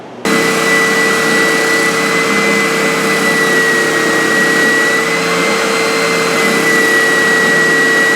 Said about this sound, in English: Now I can fine tune this radius here using the belt sander.